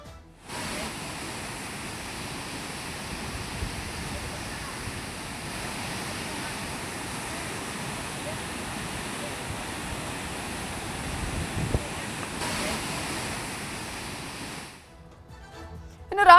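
Floodwater released from Basavasagara (Narayanapur) Dam on the Krishna River in Karnataka roars as a waterfall over rocks, a broad, steady rushing wash heard from a distance, fading briefly near the end.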